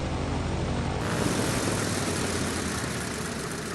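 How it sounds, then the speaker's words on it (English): An aircraft engine in the video game Kerbal Space Program runs as a steady broadband roar with a low hum that shifts about a second in, then keeps droning evenly. "Let's put the brakes on and shut down the engine."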